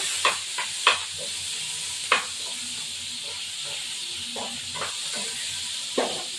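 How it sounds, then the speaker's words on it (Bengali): Shrimp frying in a wok and being stirred, a steady close sizzle broken by scattered scraping and clinking strokes of the utensil, with no voices. "এবার একটু কড়াইতে নাড়াচাড়া দেবো।"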